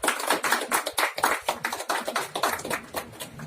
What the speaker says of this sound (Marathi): त्यांचं आपण स्वागत करूया टाळ्या वाजून